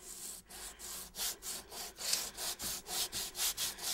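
Rhythmic back-and-forth scraping of sandpaper on painted wood furniture, about a dozen even strokes, close and fairly quiet with no talking.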